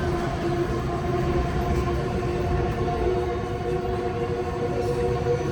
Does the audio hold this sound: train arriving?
yes